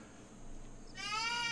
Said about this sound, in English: there will be goats apparently in FS25 in the base game